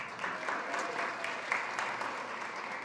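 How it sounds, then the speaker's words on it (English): Audience applause at a nutrition discussion event, steady and moderately loud clapping from a room of people, sustained throughout without a break. "So give them a round of applause,"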